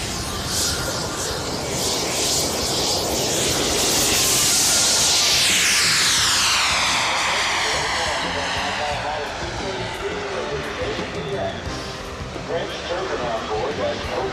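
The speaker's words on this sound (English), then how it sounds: "As Bob places the turbine T-33 on the runway, listen to the entire flight and the thrill of turbine sound." A turbine-powered T-33 model jet with a propane-fuelled JPX T240 turbine passes overhead, its loud whine rising and sweeping down in pitch as it flies by, then fading to a steadier distant roar.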